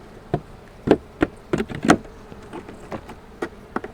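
Honey bees around an opened single-deep hive during a fall inspection, heard as a series of sharp close buzzes and taps of bees passing near, with short bursts over a quiet background and no talking.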